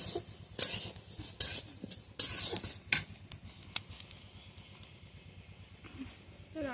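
Close, sharp metallic clinks and scrapes of utensils against cooking pots while moong dal and potatoes are prepared in a home kitchen, in irregular bursts over a low background hum.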